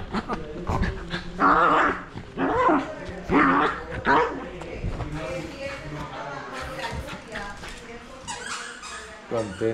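A small female dog barks and growls in short, squeaky, yipping bursts close by, mixed with a person talking affectionately during a brief car trip between Bogotá and San Juan.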